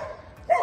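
A single short dog bark rings out in a small town, brief and moderately distant against a quiet background.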